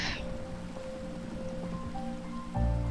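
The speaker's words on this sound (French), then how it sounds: "c'est la pluie, ça me saoule" Steady rain in Minecraft patters in a dense, even hiss, with faint tonal hums underneath and a low thump near the end.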